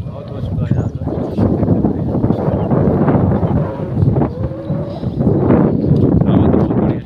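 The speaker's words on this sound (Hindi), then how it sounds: "हवा तो बहुत बढ़िया चल रही है, ठंडा ठंडा हवा चल रही है।" A strong, cool morning wind blows across the river ghat at Adampur, Fatehpur, where people come to bathe at high water. It rumbles and buffets the microphone continuously, with faint voices in the background.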